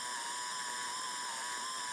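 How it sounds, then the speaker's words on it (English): A steady, buzzy synth tone with a gritty distorted edge, held evenly for two seconds with no pauses. "This is with distortion"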